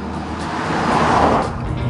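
A Honda Accord with a 2.2 litre diesel engine driving along, a steady, smooth road and engine rumble that swells slightly midway, with no talk.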